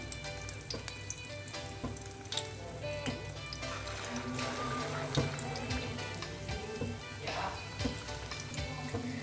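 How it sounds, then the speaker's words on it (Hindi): Bottle gourd (lauki) kababs, four at a time, fry in a pan of oil over a medium flame, giving a steady crackling sizzle with scattered pops that runs throughout the clip. "मैं यहाँ पर 4 कबाब एक साथ फ्राई करूँगी"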